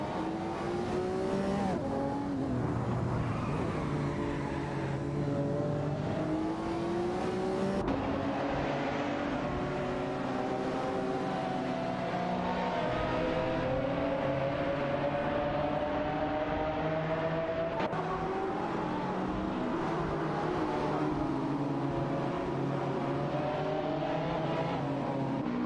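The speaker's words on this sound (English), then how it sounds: "for now, it's just cars racing it out" Race cars in a racing video game roar continuously at full throttle, several engines overlapping with rising and falling revs and occasional gear shifts, loud and steady throughout with no talk.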